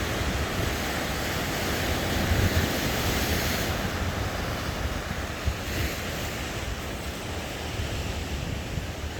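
Ocean surf breaks steadily on a beach, a broad continuous roar of waves with wind buffeting the microphone. Several heavier thumps rise above the wash, and no voices are heard.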